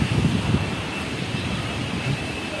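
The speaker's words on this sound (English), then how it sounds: "So windy" Strong wind at a rural homestay, a steady broadband roar with low gusty buffeting across the microphone, loud and unbroken throughout with no talk.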